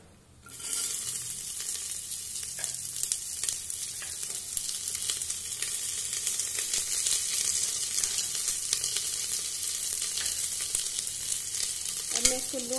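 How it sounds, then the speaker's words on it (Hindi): Onions sizzle steadily in a pan over a low-medium flame after garlic has been fried, with a constant bright crackle and a brief stirring clatter near the end, for a chana dal tadka. "इसको लो मीडियम फ्लेम पे प्याज को फ्राई करूंगी।"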